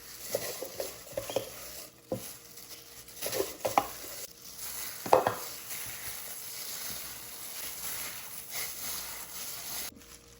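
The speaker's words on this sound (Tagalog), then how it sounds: "We'll put the chopped garlic. Then mix it." A utensil stirs chopped garlic with ground pork in a cooking pan for pancit molo, making irregular scraping and clattering strokes over a soft sizzle, then the sizzle carries on more quietly on its own.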